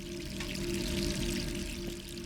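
Tap water runs steadily into a sink in the Resident Evil 3 video game, a continuous broadband hiss and splash with a low hum beneath it, moderately loud and unbroken, with no talking.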